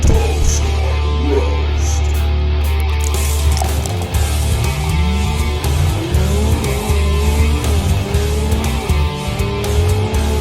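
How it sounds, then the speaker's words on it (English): A loud Corvette Z06 engine revs and roars as tires squeal and skid, the drone rising and falling throughout without any talking. "I hear a squealing noise."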